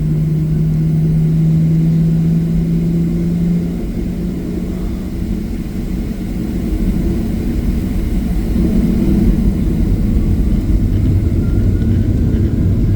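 An airliner rolls down the runway at Salt Lake City for takeoff, a steady loud engine roar and rumble heard from inside the cabin, continuous throughout without talk.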